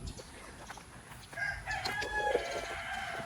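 Chickens cluck nearby, then a rooster crows partway through, loud and close, with more clucking around it.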